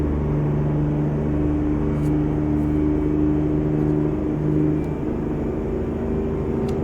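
Older Mack R truck with a 237 hp engine and twelve-gear transmission in American Truck Simulator, its diesel droning and rumbling steadily at constant revs with a slight dip near the end, loud and close, no voices.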